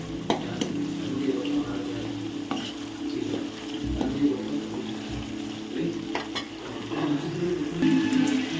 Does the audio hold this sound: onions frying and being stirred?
yes